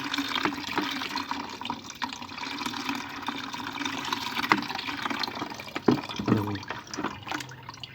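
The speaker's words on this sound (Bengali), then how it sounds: "এই খাবারটা আমরা একটা পাত্রের মধ্যে কিন্তু ঢেলে নেব এবং সেটা সুন্দরভাবে ছেঁকে নিতে হবে" Liquid plant food for a hibiscus being poured and strained into a container, a soft, continuous trickle and splash at close range, with a few heavier drips near the end.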